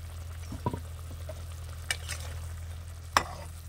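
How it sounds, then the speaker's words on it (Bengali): Rupchanda fish pieces go into a pan of boiling liquid, a low bubbling simmer under a few sharp clinks and splashy taps as the fish drops in, close and fairly quiet, with no speech. "তো ফুটে উঠেছে, এবার আমি মাছগুলো দিয়ে দিচ্ছি"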